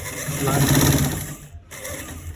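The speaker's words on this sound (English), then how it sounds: "So we start stitching it." A sewing machine stitching a duct at the back of a pair of trousers, a steady close mechanical whir that fades briefly near the end before resuming.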